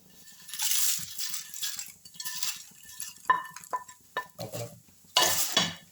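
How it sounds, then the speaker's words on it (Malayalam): Spoon clinking and scraping in a pan as pappadam is gently stirred into cooked thoran masala, bursts of rattling strokes and sharp metallic taps at irregular intervals, close by with no voices. "പപ്പടം പൊടിയാതെ ചെറുതായിട്ടൊന്ന് ഇളക്കി കൊടുക്കാം"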